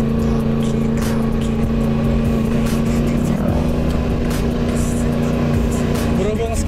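A big motorcycle idles while warming up on a Sunday morning, a steady, loud engine drone with a constant low hum that holds without pause throughout.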